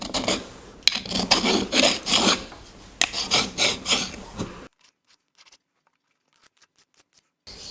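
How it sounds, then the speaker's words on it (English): A metal file rasps across the surface of a honing jig in quick repeated back-and-forth strokes, loud and close, then stops abruptly, leaving near silence with faint small clicks. "I'm going to quickly grab a file and get you back here. Okay, so let's see if we can flatten this out"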